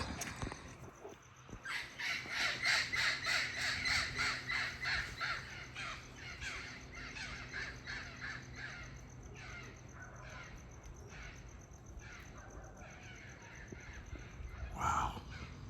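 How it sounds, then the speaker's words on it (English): Several birds call from trees along a Los Angeles street, harsh crow-like caws repeating in irregular bursts at moderate distance, strongest early on and then thinning out, with no talking over them. "There's some birds up in there."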